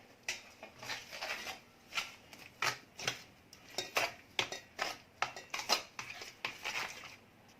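A spoon stirs semolina cake batter mixed with hot milk in a bowl, producing a run of quick, close scraping and tapping strokes in an uneven steady rhythm, with no talking.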